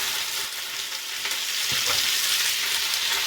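Curry leaves frying in hot oil, a loud, dense, continuous sizzle heard up close with a faint stir near the middle, no voices.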